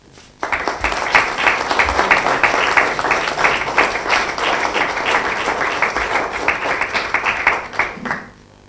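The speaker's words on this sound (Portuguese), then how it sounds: "peço uma salva de palmas" An audience claps warmly at an anniversary ceremony for the municipality of Alcanena. The applause starts abruptly, stays loud and dense for about eight seconds, and then fades quickly.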